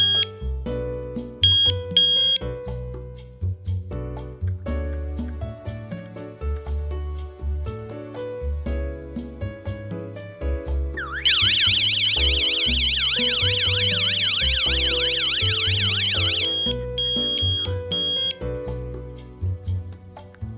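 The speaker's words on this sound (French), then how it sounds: "la sirène se déclenche également." A PG-109 alarm host sets off its siren, a loud warbling wail that rises and falls rapidly for about five seconds over steady background music, with a few short beeps before it.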